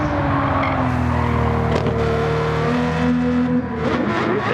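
The Walter Wolf Special Lamborghini Countach 500S roars in a racing video game as it runs the final straight and crosses the finish line: a loud, sustained engine drone shifting in pitch, with brief tire squeal.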